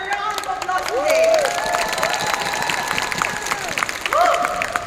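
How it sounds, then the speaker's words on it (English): Seminar audience in Bangkok claps and cheers through a round of applause, the clapping steady under a presenter's amplified voice and shouts from the crowd. "Give ourselves a round of applause today."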